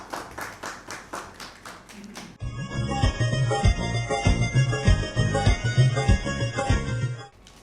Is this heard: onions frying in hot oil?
no